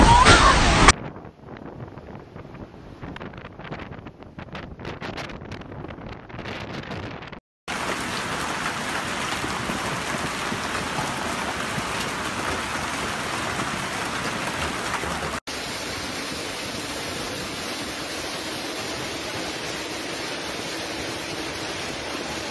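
Heavy, torrential rain pours down during a violent storm in a European city, a dense and constant hiss that runs on for over twenty seconds with several abrupt shifts in level.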